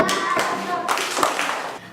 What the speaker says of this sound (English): Pupils clap back twice to show they're listening